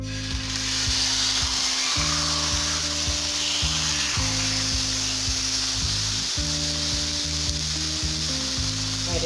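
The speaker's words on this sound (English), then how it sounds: "So I'm going to add my roast in the skillet here." A roast sears in a hot skillet with a steady, loud sizzle and spatter throughout, while a low stepped tone hums underneath.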